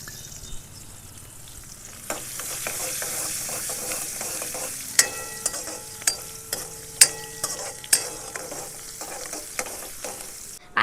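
Mustard seeds, cumin, asafoetida, curry leaves and onion hit hot oil for a bitter gourd curry, making a soft continuous sizzle with sharp scattered pops and crackles that grow more frequent midway, close up with no talking.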